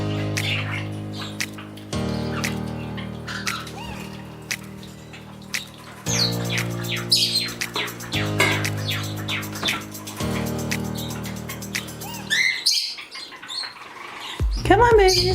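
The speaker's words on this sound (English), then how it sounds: "let all my birds out and see if they will enjoy the fresh spray millet" Pet birds in a bird room let out for fresh spray millet, chirping and squawking in short bursts over a steady, loud tonal hum, with a few scattered louder calls near the end.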